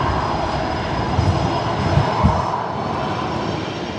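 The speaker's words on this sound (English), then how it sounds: "The Embraer just landed." An Embraer airliner lands at Brisbane Airport, its engine roar a steady, broad rumble heard from a distance with a faint high whine above it and no talking.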